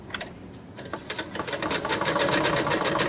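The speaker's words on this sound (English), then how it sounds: "I'm going to go ahead and stitch approximately 1/4 of an inch around" A sewing machine runs in rapid bursts of stitching while a Christmas tree card is sewn about a quarter inch from its edge, the mechanical chatter starting and stopping, then running steadily and loud up close, with no talking.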